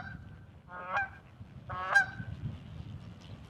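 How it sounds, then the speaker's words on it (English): Canada geese flying past outdoors, two loud nasal honks about a second apart over a low rumbling background, then a faint third call trailing off. "Thank you, Canada geese."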